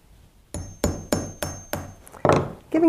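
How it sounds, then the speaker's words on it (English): A nail is hammered to start a small hole in a Halloween party arrangement, five sharp, evenly spaced metallic strikes ringing close and loud, followed by a brief scraping rub. "the easiest way is just to take a nail first and hammer a little hole"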